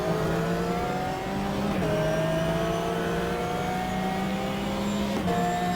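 A race car in GTR 2 revs at full throttle uphill, its engine note climbing steadily through gears with brief shift dips, loud and continuous with no talking.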